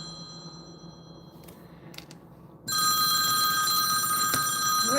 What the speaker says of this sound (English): I hear something ringing. Do you hear something ringing?